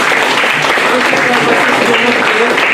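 A crowd applauds steadily, with dense, continuous clapping throughout and no pauses.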